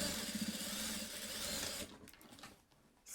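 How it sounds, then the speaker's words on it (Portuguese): A sewing machine stitches a fabric patchwork pouch, its motor whirring loudly and rapidly for almost two seconds before stopping, followed by faint handling noises and quiet rustles. "Ajeitei aqui e vou costurar."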